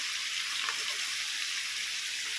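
Chopped eggplant fries in hot fish oil, a steady, even sizzle with a soft crackle that continues without pause and stays close and moderately loud.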